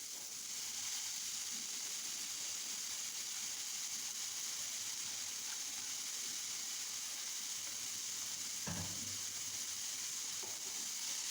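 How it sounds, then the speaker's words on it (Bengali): Ash gourd leaves stir-frying in a pan give a steady, quiet sizzling hiss throughout, broken by a single soft knock of stirring. "কিছুক্ষণ নেড়ে চেড়ে কষিয়ে নিয়ে এখন দিয়ে দিচ্ছি"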